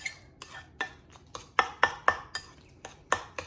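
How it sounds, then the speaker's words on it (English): A utensil scrapes and knocks against a bowl while stirring a sweet potato mixture, giving about a dozen sharp, evenly spaced clinks in a steady rhythm, close and clear with nothing else heard. "Just stir it up a little bit."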